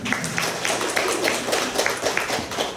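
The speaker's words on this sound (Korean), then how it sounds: "박수 나와야 됩니다" An audience at a seminar claps in a steady, fairly quick rhythm, the hand claps blending into a moderate, continuous applause throughout.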